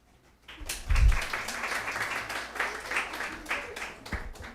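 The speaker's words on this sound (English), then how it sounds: "A warm round of applause for all." An audience at a university annual day and alumni felicitation breaks into applause: clapping starts after a quiet moment, swells quickly, then continues steadily with a few murmurs and thumps underneath.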